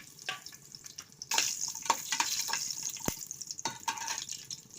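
Whole spices for mutton biryani, including cinnamon, star anise, marathi moggu, three cardamom pods and kalpasi, sizzle and crackle in hot oil with sharp pops and stirring scrapes, close and moderately quiet.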